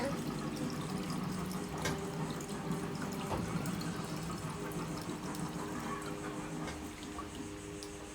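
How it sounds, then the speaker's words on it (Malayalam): Water pours steadily into a small homemade fish tank, a continuous close splashing and gurgling rush that runs for about eight seconds with no speech. "നമ്മളിതിൽ ആവശ്യത്തിനുള്ള വെള്ളം ഒഴിച്ച് സെറ്റ് ചെയ്തിട്ടുണ്ട്"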